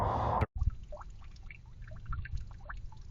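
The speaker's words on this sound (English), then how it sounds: "turned the water down so it was just a really slow trickle" Water trickling slowly into a cattle trough in sub-freezing weather, a soft continuous pour with small splashes, preceded by a brief louder rush that cuts off.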